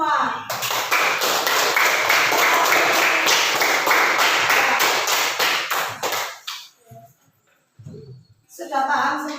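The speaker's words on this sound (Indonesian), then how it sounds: "Tepuk tangan untuk kita semua." Classroom of students clapping together, a loud rapid burst of hand claps lasting several seconds before thinning into a few scattered claps, with brief talk after.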